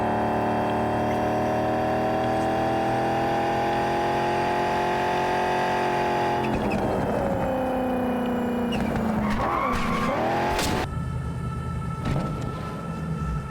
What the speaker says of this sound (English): Watch this drift.